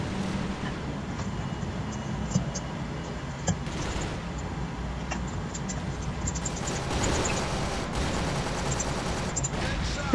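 Rapid gunfire bursts crackle through the CrossFire shooter game, a dense, continuous barrage of shots layered over the game's ambient noise.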